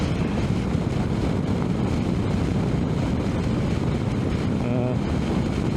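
Strong wind roars steadily against a helmet-mounted microphone while riding a Triumph Tiger 800 motorcycle, a dense, unbroken rushing buffet that drowns out any other sound.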